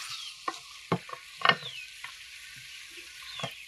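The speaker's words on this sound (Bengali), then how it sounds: "কষানো হচ্ছে মাংসগুলোকে," Country chicken sautéing with turmeric in a pan, with a spatula scraping and stirring in sharp, irregular strokes over a soft, steady sizzle, close up.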